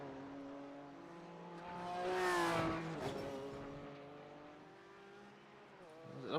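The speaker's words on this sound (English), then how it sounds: "Currently riding on board there with the number 3 car." Onboard a BMW GT4 race car on an out lap at Circuit Gilles Villeneuve, the engine revs and shifts through gears, swelling loud then easing, heard steadily from inside the car.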